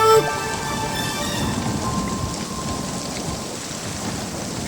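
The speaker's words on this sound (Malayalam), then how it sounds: "പെട്ടെന്നു മാനം കറുത്തു വന്നു, മഴയുടെ കൂട്ടത്തിൽ കാറ്റും വന്നു." A cartoon rainstorm with wind: a dense, steady rush of heavy rain with a rumbling undertone, continuous and fairly loud with no voices.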